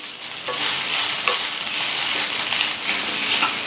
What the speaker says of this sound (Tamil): இந்த தேங்காய் துருவலோட ஈரப்பதம் போக 1 நிமிஷத்துக்கு நல்லா வதக்கி விட்டுக்கங்க